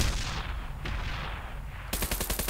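Rapid gunfire from the online shooter game Bullet Run: a continuous rattle of shots, then a sharper, evenly spaced burst of loud, close rounds near the end, with no talking.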